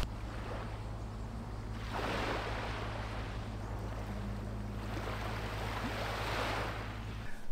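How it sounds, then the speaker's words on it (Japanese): Sea waves and wind outdoors at the shore: a constant windy rush with two broad swells of surf washing in and fading, loud and close, with no talking. "海とか風の音を楽しんだり、"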